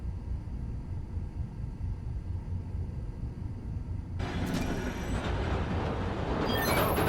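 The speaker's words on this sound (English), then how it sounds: "Need to wait for the train to come by." Subway train in the video game Spider-Man: Miles Morales, starting as a low ambient rumble, then rushing past loudly with a sudden roar, clatter and high wheel squeal near the end.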